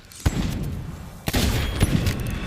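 Video game gunfire, a few sharp shots marking a headshot, each a loud broadband crack over a continuous low rumble of game noise.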